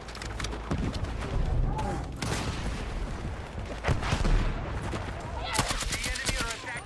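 A weapon fires rapidly in the video game Battlefield 6, with steady bursts of automatic shots over a constant rumbling battle backdrop and a person talking over it.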